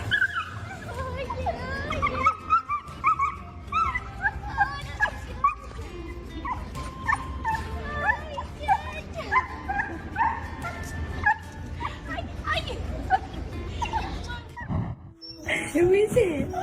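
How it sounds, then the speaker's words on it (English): A dog reunited with its owner after six months apart lets out excited whimpers, whines and yips throughout, with occasional barks, close and fairly loud, while people talk nearby. "Here is the amazing reaction of a dog who hasn't seen its owner for 6 months."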